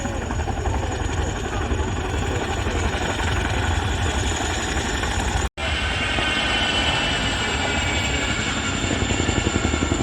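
A Chinook helicopter at an air show flying backwards and taking off: a loud, steady broadband rotor and engine roar held throughout, broken by one very brief dropout midway, with faint crowd or voice sounds mixed in.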